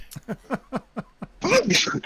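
A series of short, sharp bursts builds up before a loud, explosive sneeze near the end.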